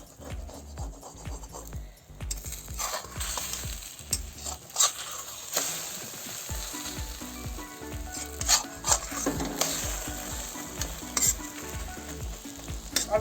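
An egg omelette fries in a pan with a steady sizzle, broken by repeated scraping and stirring strokes and occasional clinks of utensil on pan, without any talking.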